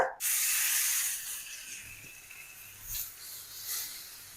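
Marinated hamour fish hitting hot oil in a shallow pan, an abrupt loud sizzle that settles into a steady hissing fry with small crackling spurts, close up and with no talking.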